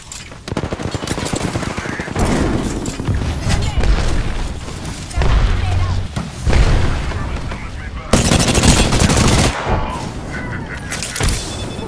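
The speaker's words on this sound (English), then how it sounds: "Listen up, I'm getting shot at." Heavy gunfire in Apex Legends, with dense bursts of automatic shots and booming impacts crowding nearly the whole stretch, loud and close, with voices briefly heard amid the shooting.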